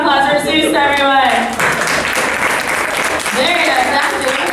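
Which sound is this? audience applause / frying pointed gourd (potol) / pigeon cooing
audience applause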